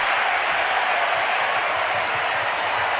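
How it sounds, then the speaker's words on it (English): Steady roar of a packed NBA arena crowd cheering after a missed three-point attempt, Boston Celtics versus Minnesota Timberwolves, a continuous wash of voices with no breaks. "there was a cheer there because they just won free yogurt by that miss"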